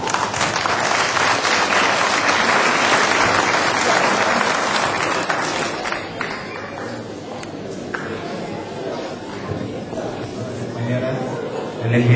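A crowd applauds loudly for several seconds, then the clapping thins and fades while voices chatter in the background.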